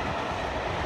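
Train passing the junction at Ferryhill station: a steady, loud rumbling roar with a rail hiss, close by and with no talk.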